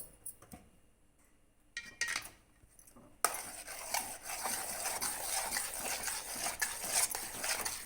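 Beetroot halwa stirred in ghee in a pan: a few scattered clinks at first, then continuous scraping and stirring picks up and carries on, close and moderately loud.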